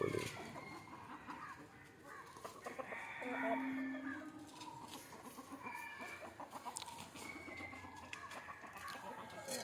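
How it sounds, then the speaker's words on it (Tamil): Country chickens at a coop around 7:30 in the morning as it is opened, with busy clucking and a rooster's crow among faint low murmuring, a steady rural backdrop of fowl noise at moderate distance. "கோழி"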